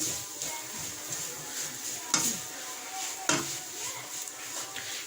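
Potato samosa filling is stirred in a pan over a low flame, soft continuous scraping with two sharper clinks of the utensil against the pan, close and quiet, no voices.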